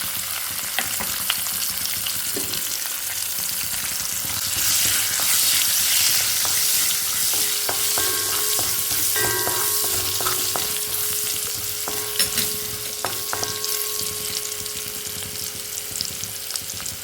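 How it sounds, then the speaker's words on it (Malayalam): Chopped garlic sizzling in hot oil with cumin seeds in a pan for a curry, a steady close crackling fry with occasional scrapes and clinks of a utensil, no voices. "ജീരകം ചൂടായി ഇനി നമുക്ക് കുറച്ച് ഒരു ടീസ്പൂൺ വെളുത്തുള്ളി ഇതുപോലെ ചോപ്പ് ചെയ്തതാണ് ഇതിലേക്ക് ഇടാം"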